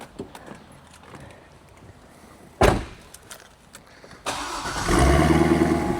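A C6 Corvette and a Cadillac on the same platform starting up: a faint background before a sharp crank and catch, then a loud engine settling into a steady idle rumble, close by.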